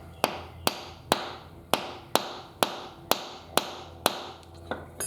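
Hammer blows knocking a rust-seized swing arm bolt out of a Yamaha Virago motorcycle: nine sharp metallic strikes at a steady, roughly half-second rhythm, loud and close, each with a short ringing decay.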